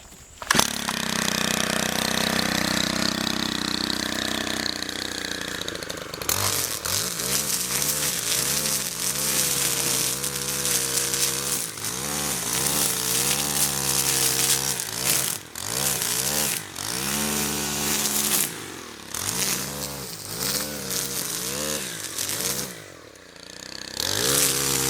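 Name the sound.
Stihl FB131 string trimmer engine running, cutting weeds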